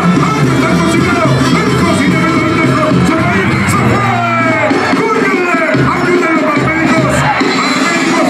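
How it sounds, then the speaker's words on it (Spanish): A large crowd at a final cheers and yells in a steady, loud wash of voices, with whoops and shouted calls rising and falling throughout. "Sí, sí, aplausos."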